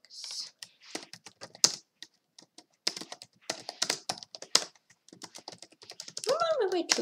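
Fingers type on a computer keyboard during a chess training livestream, with quick irregular bursts of close keystroke clicks separated by short pauses, and a brief voiced sound near the end.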